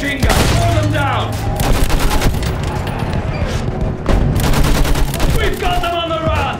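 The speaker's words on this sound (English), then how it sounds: "Use that machine gun!" Machine gun fire rattles in rapid, continuous bursts in the Battlefield 1 game, close and loud, with booming explosions and dense battlefield clamour around the shots.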